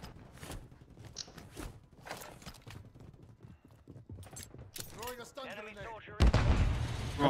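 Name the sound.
gunfire in the video game Warzone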